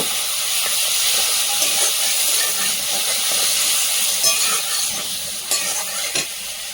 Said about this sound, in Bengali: একদম অল্প তেলে রান্না করছি